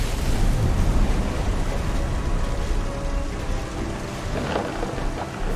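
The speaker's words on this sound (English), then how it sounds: "The thunder sounded much too close and full of angry power." Thunderstorm in the video game What Remains of Edith Finch: heavy rain hisses continuously while deep thunder rumbles close and loud, swelling then easing, with no voices.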